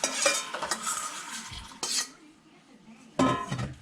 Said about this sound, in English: So I'm going to put this in a pan.